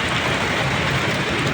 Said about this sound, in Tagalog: At talagang ang ulan ay napakalakas.